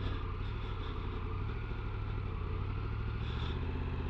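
A motorcycle on a test ride gives a steady, close engine drone with mild acceleration and wind rush, a continuous mid-loud rumble without talk.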